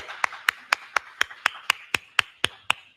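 Slow, evenly spaced handclaps, about eleven sharp single claps in a steady rhythm, from a podcast audience welcoming a guest, fairly close and without talk.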